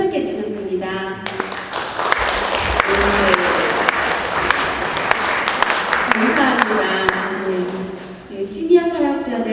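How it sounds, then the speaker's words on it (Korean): An audience claps warmly at the opening worship service of a senior ministry training school at an Atlanta Presbyterian church. The applause swells for several seconds, with a speaker talking before and after. "제가 박수를 내일 나중에 치라고 했는데 굉장히 친근감이 느껴집니다."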